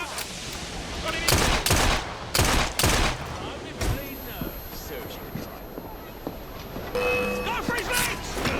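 Gunfire crackles in Assassin's Creed Syndicate, with a few sharp, loud bursts of shots close together over game voices and background noise.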